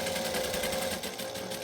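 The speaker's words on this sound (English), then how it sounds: "we're just going to sew diagonally across it." A domestic sewing machine runs steadily while stitching diagonally across layered table runner fabric, a close, even whirring hum with a slight dip near the end and no talking.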